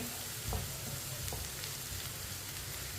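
Finely chopped onions and whole cumin seeds frying in oil, a dense, even sizzle with a few soft scrapes of a spoon stirring them, close and continuous.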